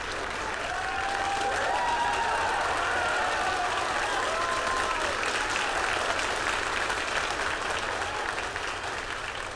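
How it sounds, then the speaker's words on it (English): A large crowd at a Rocket Lab Electron rocket launch applauds steadily after successful stage separation, a dense wash of clapping with some cheering mixed in, loud and continuous. "As you can probably tell from that applause"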